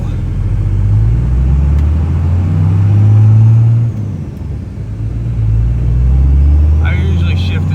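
A 1998 Dodge Ram with the 24-valve Cummins diesel drives along, its deep, steady engine drone rising and falling with the shifts as someone talks inside the cab.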